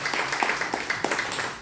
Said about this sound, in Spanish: Dale un fuerte aplauso al Señor con todo tu corazón